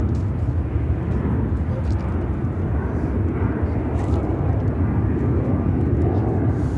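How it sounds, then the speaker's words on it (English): A United Airlines Boeing 757-300 bound for Denver takes off at Chicago O'Hare, a continuous low, rumbling jet roar filling the background at steady loudness while someone talks over it. "This is United Airlines 1565 taking off to Denver on the 757-300."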